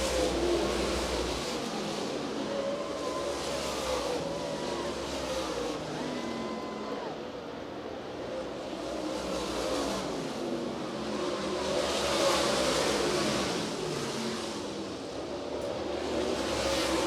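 Super late model race cars on dirt at Bedford Speedway during a feature race, engines roaring steadily as the pack passes, swelling and fading as cars circle the track, with no voices over the noise.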